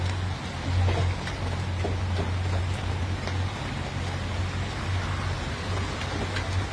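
Rain falling steadily outdoors in rural Thailand, a soft, even hiss with a low hum beneath it and faint scattered drops, continuous and fairly quiet with no voices.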